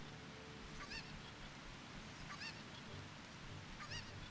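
A cucco chicken in the video game Ocarina of Time squawks three times at even intervals, sharp repeated honking cries over a steady bed of rushing waterfall noise.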